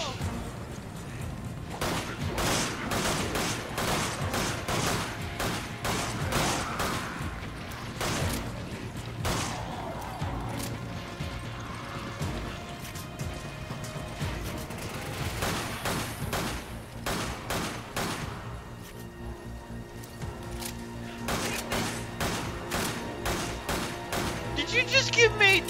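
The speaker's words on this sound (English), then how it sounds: "She just ran right out to open fire." Resident Evil 5 gameplay carries repeated gunfire in rapid bursts and fusillades, moderately loud and fairly continuous, with game noise and talk mixed in.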